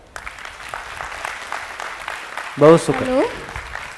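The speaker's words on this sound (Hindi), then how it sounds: "सभा के लिए जोरदार ताली।" Audience at a spiritual study camp session breaking into brief clapping after a short spoken remark, a quick burst of applause lasting under a second or two before fading back into room tone.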